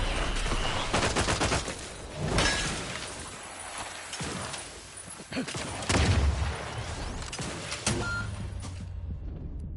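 Bursts of automatic gunfire and sharp impacts from The Outer Worlds video game rattle loudly in several volleys, mixed with breaking and shattering sounds and brief voices.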